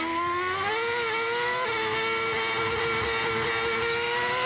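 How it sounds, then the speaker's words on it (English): A Ferrari Formula 1 car in 2013 Australian Grand Prix qualifying at Albert Park, heard onboard: a loud, steady engine whine with the throttle feathered through the final turn, pitch dipping and holding before stepping up again. "Just feathering that throttle round the final turn"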